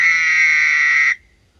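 A frog's mating call at night: one loud, close, buzzing trill held steady for about a second, then it cuts off abruptly into near silence.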